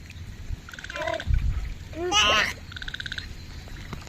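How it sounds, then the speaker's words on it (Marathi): Small frogs croaking in wet paddy fields during monsoon rain, a few close, quick chirping croak bursts repeating over a steady rain hiss, with people talking alongside. "ते छोटी छोटी बेडके असतात ना, ती आवाज करत आहे"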